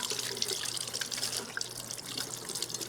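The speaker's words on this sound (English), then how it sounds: "Wash off my hands a little bit." Tap water runs steadily from a kitchen faucet while hands are rinsed before peeling a peach, a continuous broadband splashing hiss that stays even and close throughout with no talking.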